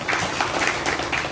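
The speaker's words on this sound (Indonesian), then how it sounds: "Tepuk tangan Anda semuanya." An audience applauds at a volunteer inauguration ceremony in an Indonesian village hall, producing a brief burst of dense clapping that is moderately loud and carries no speech over it.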